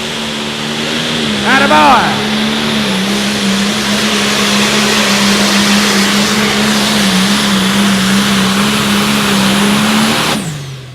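A Pro Stock pulling tractor roars through a Friday-night outlaw tractor pull at Rock Valley, its engine holding a loud, sustained drone for about ten seconds before cutting off abruptly. Someone briefly shouts encouragement near the start.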